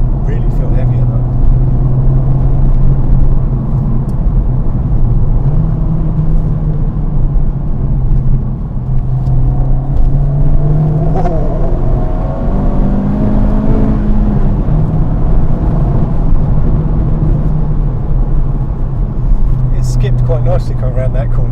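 Honda Civic Type-R (FK8) on the road, a steady low engine drone with tyre and wind noise throughout, rising slightly in pitch mid-drive, with people talking over it inside the cabin.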